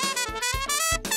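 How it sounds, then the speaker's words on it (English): A shiny new horn sounds a bright sustained melody over a bouncy backing, with a steady pulse of low beats underneath in a short, loud stretch of children's-show music. "The horn, it makes a sound like this."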